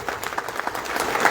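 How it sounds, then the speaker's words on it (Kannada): A crowd at a farmers' cooperative society statue unveiling ceremony applauds in a brief, even patter of clapping, moderately loud and a little distant. "ಆ ಜ್ಞಾನಿಗಳಿಗೆ ಒಂದು ಚಪ್ಪಾಳೆ ಮೂಲಕ ಧನ್ಯವಾದ ಸಲ್ಲಿಸ"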